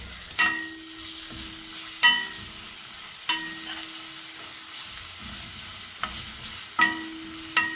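Cumin and ginger-garlic paste sizzle softly in a pan with a steady, low frying hiss, broken by several sharp clinks of a spoon stirring against the pan at roughly even intervals.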